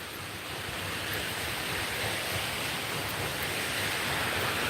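Water rushes steadily at a water mill at Juniper Springs in Ocala National Forest, Florida, a dense, close, continuous roar with no talk over it.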